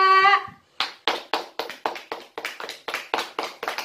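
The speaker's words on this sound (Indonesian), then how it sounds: "tepuk tangan untuk Revita." A small class claps for a student named Revita, beginning with a brief voice, then a steady run of sharp, close, fairly even claps that quickly settle into a loose rhythm.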